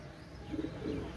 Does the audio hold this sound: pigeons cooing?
yes